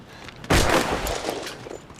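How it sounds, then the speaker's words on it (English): A gunshot from the war drama Band of Brothers: one sharp, loud blast that rings out and decays over about a second, followed by fainter rattling noise. "Shoot him, Shifty. Well done. Good shot, good shot"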